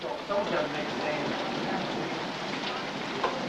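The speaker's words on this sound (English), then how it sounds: "Oh, there's rain outside today." Rain falls outside the house in a steady, even hiss with scattered drops, moderately loud and continuous throughout.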